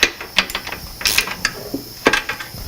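Wrench tightening an axle nut on a Schwinn Stingray banana-seat bicycle wheel, a series of close, sharp ratcheting clicks and metallic ticks in irregular bursts.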